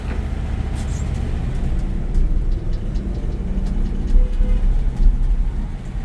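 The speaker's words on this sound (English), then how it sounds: "Now we're in second gear." A 1964 Ford F100 short-wheelbase pickup engine pulls steadily in second gear, a loud, continuous low rumble with road and cabin noise, and faint talk mixed underneath.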